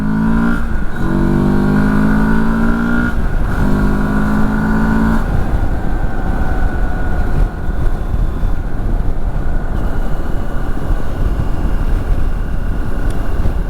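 A Moto Morini X Cape 650 motorcycle accelerates on a road ride, its engine a steady, close droning hum whose pitch shifts through the run, with no talk.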